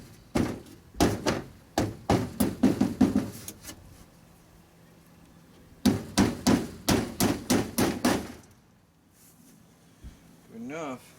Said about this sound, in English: The ball side of the hammer is better than anything.